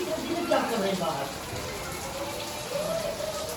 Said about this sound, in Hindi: हमारी कराची की ये पहली बारिश है और अचानक एकदम से बारिश स्टार्ट हो गई